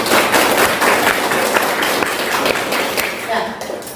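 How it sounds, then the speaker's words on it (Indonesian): Loud audience clapping in a lecture or workshop room after participants finish a performance, steady and close, mixed with bumps and taps and some voices talking over it. "Ya, tepuk tangan untuk kita semua."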